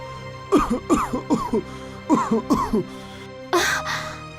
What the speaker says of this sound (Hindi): तभी राजा जोर से खांसने लगता है